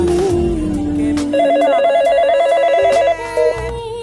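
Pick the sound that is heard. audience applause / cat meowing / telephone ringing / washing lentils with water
telephone ringing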